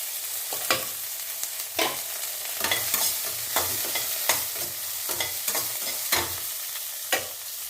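Onions and tomatoes sizzle quietly in a pan while a spoon scrapes and stirs in regular strokes, each knock standing out above the low frying hiss.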